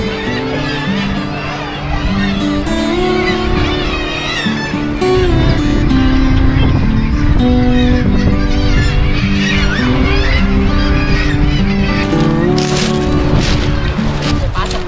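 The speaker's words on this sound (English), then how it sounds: "Thousands of birds making the cliffs their home." Seabird colony on the coastal cliffs of Whitburn Coastal Park in South Shields, with dense, loud overlapping calls and honking cries from many birds continuing throughout without pause, and a steady wash of wind or surf beneath.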